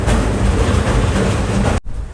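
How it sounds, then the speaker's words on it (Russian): A tourist train runs through the jungle at Iguazu Falls in Argentina, giving a loud, continuous rolling rumble that cuts off abruptly near the end, leaving a quieter hum. "Вот так вот сквозь джунгли мы пробираемся на таком поезде"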